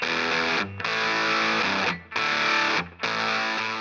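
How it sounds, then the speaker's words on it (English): Electric guitar through drive and fuzz pedals run in parallel and out of phase, a thin, distorted sustained chord strummed three times with brief gaps between, loud and close. "It sounds like the drive is out of phase with the fuzz."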